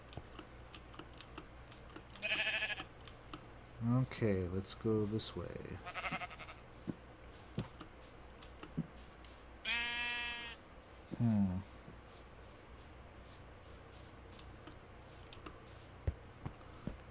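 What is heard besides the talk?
sheep bleating in Minecraft video game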